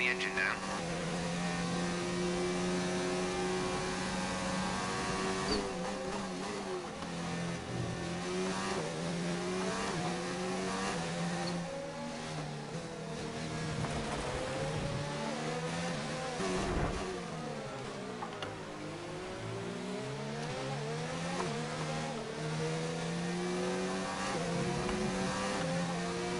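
Race car engine in the F1 2019 game, revving and shifting steadily throughout with rising and falling pitch sweeps, loud and continuous, with a voice talking over parts of it.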